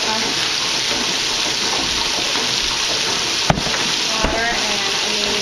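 Tap water runs steadily into a kitchen vessel while deer steak and gravy is being made, a continuous broadband splashing rush with a couple of small clunks partway through.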